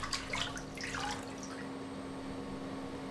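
Water drips and splashes briefly as a thin metal foil is rinsed in a lab bath, a short burst of trickling at the start that fades into a quiet, steady hum.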